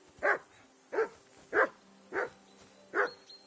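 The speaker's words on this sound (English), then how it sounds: "Harry, that barking's driving me nuts." In the medieval game Kingdom Come: Deliverance II, a dog barks five times in single, evenly spaced barks, each sharp and fairly close, with a faint hum underneath and no voices.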